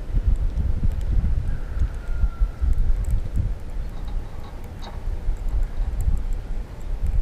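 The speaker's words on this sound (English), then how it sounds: "I hope that wind isn't really bad." Wind blowing across a lakeside bank during spring bass fishing, a steady low buffeting rumble on the microphone with gusty swells and faint rustling, no talk.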